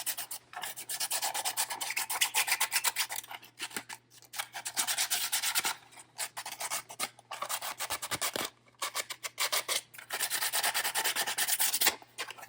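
A 3D printed part is sanded by hand in repeated rasping strokes broken by short pauses, close and fairly quiet, over a faint steady hum.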